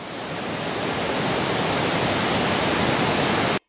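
Cascades of the Eşen stream rush through the Karanlık canyon near Seydikemer, Muğla, as a loud, steady roar of falling water that stays constant until it cuts off abruptly.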